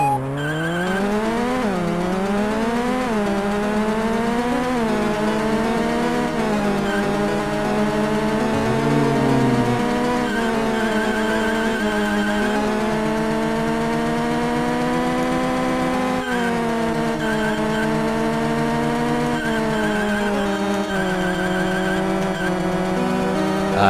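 Arcade racing car engines from GT Advance on Game Boy Advance, a continuous buzzy whine rising and falling through gear changes, with tire squeals cutting in, loud and steady for the whole stretch with no talk over it.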